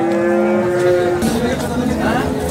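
A cow lows loudly and close with a sustained, harmonic moo at a busy cattle market in Sangola, followed by a second, rougher bellow amid crowd and market noise.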